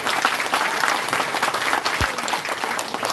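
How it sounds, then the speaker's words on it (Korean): A crowd claps at a regional party members' rally, welcoming a guest speaker. The applause is continuous and busy and holds an even level throughout, with no speech over it. "박수로 환영해 주십시오"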